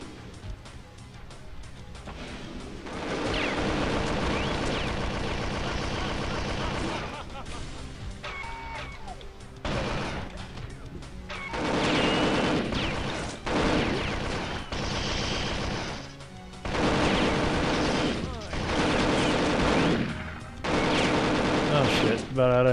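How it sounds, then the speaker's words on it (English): Rapid bursts of video game gunfire, loud and dense, crackle through most of the stretch in volleys separated by brief lulls, with a player's voice talking over parts of it. "Why are they shooting at me?"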